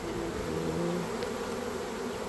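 A honey bee swarm hums in a continuous, steady drone close by during relocation into frames, with no speech over it.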